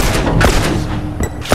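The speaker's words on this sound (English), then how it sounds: "Shot that guy too, Dicey." Gunfire crackles in the video game The Last of Us, loud and close, in a dense booming wash with a few sharper reports near the end. It sounds like a continuous firefight.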